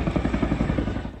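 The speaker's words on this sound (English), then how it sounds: "Drake captured this video of a military helicopter landing in the middle of the inferno." A military helicopter lands in the middle of a California wildfire inferno, its rotor giving a loud, steady, rhythmic thumping throughout the short stretch.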